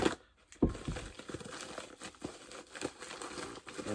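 A package wrapped in a plastic bag is being opened, with close crinkling and crumpling of plastic in irregular bursts and a couple of sharper tearing rustles.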